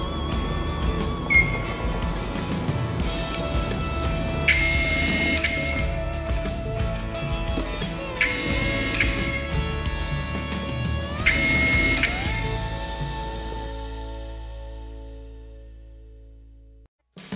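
A SUMAKE electric screwdriver on a brushless power supply whirs with a steady motor tone, with short bursts as it reaches torque and auto-reverses, then spins down into silence. No one speaks.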